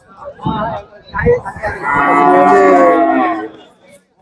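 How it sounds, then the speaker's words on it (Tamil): A bull lows loudly and close at the Manapparai cattle market, where Jallikattu bulls are sold. A long, drawn-out moo follows brief scuffling and crowd noise, then fades. "எல்லாமே மாடுகள்"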